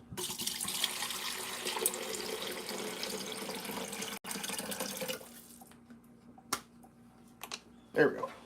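Water runs steadily from a tap into a sink at home for several seconds, a continuous close rush that stops, followed by a few scattered clatters and a bump; no one speaks over it.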